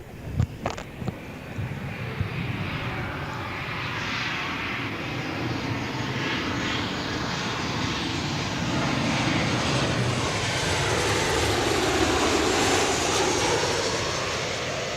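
A Virgin airliner passes close and low over Gold Coast Airport, its engine roar swelling steadily into a loud, broad rush that holds strong to the end, after a few brief knocks at the start.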